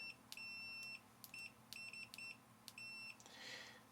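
A EEVBlog 121GW multimeter in continuity mode gives a series of short, clean electronic beeps of uneven length as the probes touch and lift, quiet and close with no talk.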